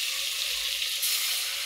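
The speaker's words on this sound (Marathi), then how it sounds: "थोडं परतून घ्या आणि जी आपण भरलेली वांगी आहे ती त्याच्यात सोडून द्या" Stuffed brinjals with leftover black masala and chilli sauté in a pan, giving a steady, even hiss of sizzling oil up close with no voices.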